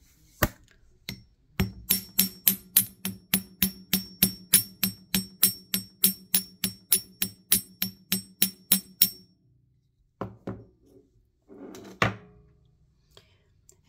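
Small metal hammer taps on a wire-wrapped ammonite pendant, about two dozen evenly spaced, crisp strikes in a quick steady rhythm, then a pause and a few scattered knocks and handling sounds.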